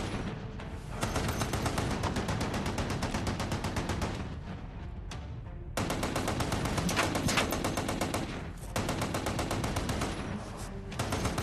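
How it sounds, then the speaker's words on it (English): Heavy machine-gun fire in a battle scene from the 2016 movie AmeriGeddon, long dense bursts of rapid shots broken by brief pauses, loud and continuous with booming undertones and no talking. "keep firing that gun! Pin them down!"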